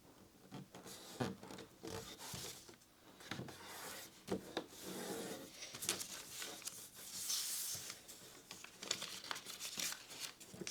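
Origami paper being turned over and folded into a platypus, giving close, continuous crinkling and rubbing with a few sharper creasing snaps, with no talking.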